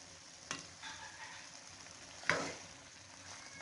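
Fish frying in a pan for a fish masala, a soft continuous sizzle with two brief scraping clicks of a utensil, no speech.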